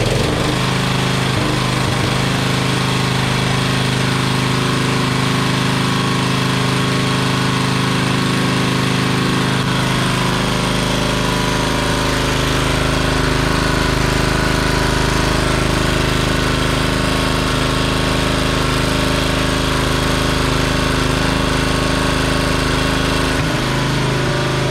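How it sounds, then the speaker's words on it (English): A 1990s commercial Toro lawn mower engine, freshly fitted with a new spark plug and air filter, runs steadily and loudly close by, its rough droning note holding for the whole stretch with a slight change in pitch partway through. "the engine's been running for a little while"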